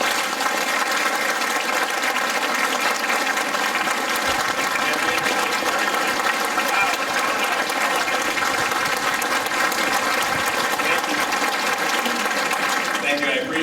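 An audience applauds steadily and loudly to welcome Tom Tancredo onto the stage, a dense, sustained clapping that continues without a break, with no speech audible over it.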